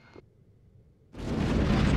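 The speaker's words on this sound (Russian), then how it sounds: "И мы можем перейти к взрыву." Synthetic particle explosion effect built in Pixel FX Designer: a short faint blip, a pause of near silence, then a sudden loud broadband roaring burst that stays strong and sustained to the end.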